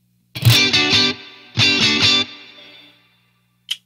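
Two strummed electric guitar chords through a Victory VC35 'The Copper' amp head with reverb, each ringing out with a reverb tail that fades into silence, then a brief high squeak.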